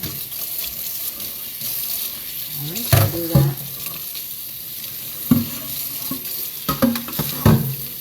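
Kitchen tap running into a sink while dishes are washed by hand, a steady wash of water punctuated by clinks and knocks of dishes, with a brief spoken remark partway through.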